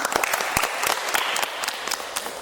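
An audience claps at a family gender-awareness simulation event in Sendangagung village. The applause is a steady, close patter of many hands with a few sharper individual claps, lasting a couple of seconds without talk.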